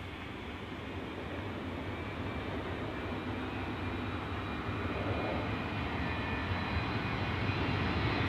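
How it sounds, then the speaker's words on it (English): Boeing 727 jet taking off while fuel leaks from its wing: a steady, loud broadband engine roar that holds constant and builds slightly toward the end, with no voices. "This Boeing 727 taking off with fuel leaking out of its wing."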